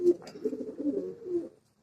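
A Giribaz pigeon gives a single low, throaty coo that lasts about a second and a half, close by and moderately loud, then stops into silence.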